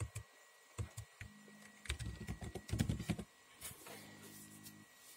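Someone types a camera password on a computer keyboard: soft, irregular key clicks come close and fairly quiet, in short bursts with pauses, plus a faint electronic hum.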